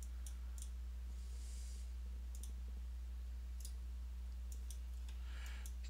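Faint computer keyboard clicking, scattered short keystrokes in small bursts over a low steady electrical hum, no talk.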